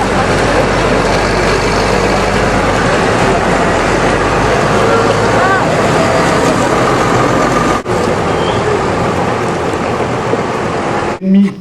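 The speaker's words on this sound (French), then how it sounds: "On va maintenant changer de tracteur et mettre le tracteur EcoBlue, le T7" A New Holland T7 EcoBlue tractor engine runs steadily with a dense, continuous drone that holds close and loud for the whole stretch, briefly dipping once near the end, with no talk over it.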